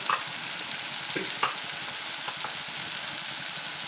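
Spices stirred into tomato and egg gravy frying in oil, a steady close sizzle with a few soft scrapes of the spoon against the pan.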